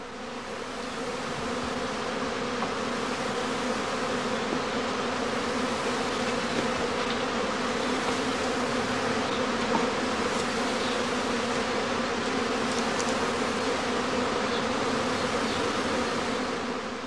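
Dense, steady drone of many honey bees buzzing at the entrance of a traditional straw skep hive during swarming season, a continuous close hum without pauses or voices.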